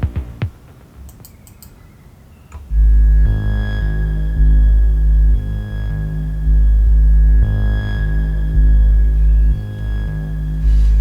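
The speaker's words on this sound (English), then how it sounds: "we're changing the sound up by scrolling through some very static wave shapes, which kind of gives it that pulse and that tonal pitch change." A Serum Alpha II synthesizer patch scrolls through static wavetable shapes, holding a loud, deep droning tone that throbs in steady pulses, with shifts in pitch and a thin high whine above, after a short burst of clicks.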